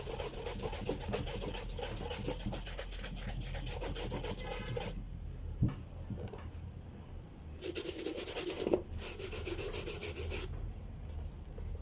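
A hard shoe brush buffing polished leather shoes with steady, close scratchy strokes, a continuous rasping rub that pauses briefly a few times before resuming.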